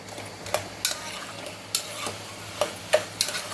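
Bottle gourd pieces frying on high heat in a pressure cooker, a soft steady sizzle with a few sharp crackles and pops scattered through, close and fairly quiet, no talking.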